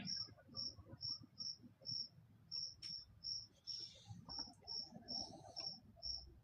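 Crickets chirping in a quiet outdoor setting, a regular series of short, high, faint trills repeating about every half second over soft low rustling.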